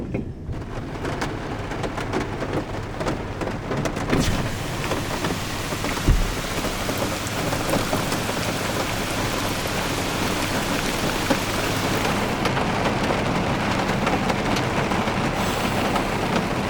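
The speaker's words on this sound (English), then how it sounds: "the rain begins to let up" Steady rain falling on a forested trail in northwest Connecticut, a dense continuous hiss with patter on surfaces and a low distant rumble, heard alone without voices.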